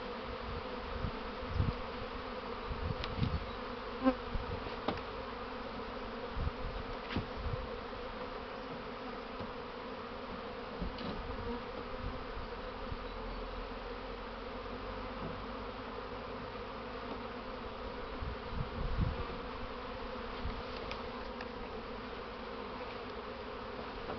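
A swarm of honey bees buzzes steadily in the open during the 2018 season, a dense low drone that holds throughout, with occasional closer bees passing near and fading away.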